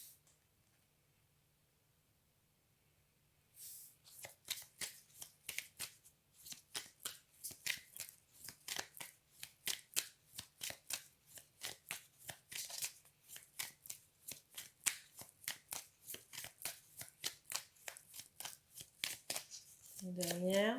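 Oracle cards are shuffled close up in a fast, steady run of crisp riffling flicks that begins after a few seconds of near silence and continues to the end, with a brief voice at the very end.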